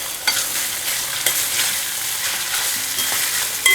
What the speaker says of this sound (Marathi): आधी छान असा परतून घ्यायचा